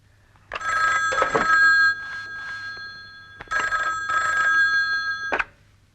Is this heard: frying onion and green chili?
no